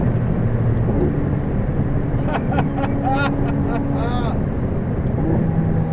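A 2016 McLaren 675LT sports car accelerates with a dense, steady engine and road roar from inside the cabin, while a voice talks intermittently over it.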